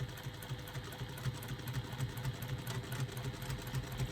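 Sewing machine stitching a wristlet bag, running in a steady fast rhythmic whir of needle strokes, fairly quiet and close, with no talking.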